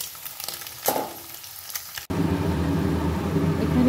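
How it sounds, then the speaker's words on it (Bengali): Paneer goes into hot oil: a few soft clatters of handling, then a sudden loud, continuous sizzle and crackle that fills the rest of the moment up close. "এখানে পনিরটা বসিয়ে দিচ্ছি, একটু পনিরটা ভেজে নিই"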